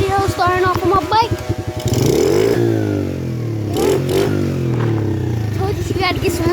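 Dirt bike engine revving and running up close, its pitch rising and falling through several throttle bursts, with a person talking over parts of it.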